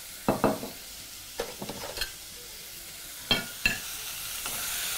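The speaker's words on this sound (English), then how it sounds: "Now this should actually cook for anywhere between 4 to 5 minutes, allowing your meat to cook to medium stage." Beef for biryani cooks in a pot, giving a soft continuous sizzle broken by several clattering stirring scrapes spaced a second or two apart.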